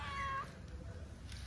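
Kittens give a single short, high meow close by, followed by a quiet rumbling indoor background.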